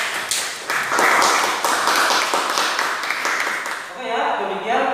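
Classroom clapping for the first student presentation group, a steady patter of many hands for several seconds, with a voice speaking over it near the end.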